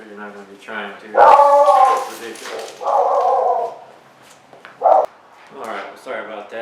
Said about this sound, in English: That was my dog acting a fool there